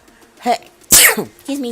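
A single sharp sneeze bursts out during casual talk between players in an online PvP game session, with speech just before and after it.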